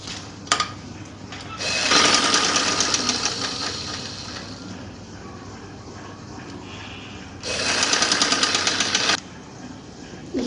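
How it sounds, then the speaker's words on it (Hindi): A sewing machine stitches a capri trouser seam in two fast, loud, steady bursts, one lasting several seconds and a shorter one later, with quiet handling between them. "अब हम यहाँ पे एक सिलाई लगा लेंगे।"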